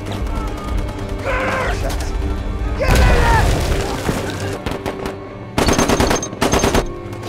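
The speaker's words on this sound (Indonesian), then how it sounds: "Tapi Jerman sudah siap dengan senapan mesinnya." Bursts of German machine gun fire mixed with booming explosions and crashes in a World War I battle scene, with dense rapid volleys toward the end over a rumbling background, loud and close.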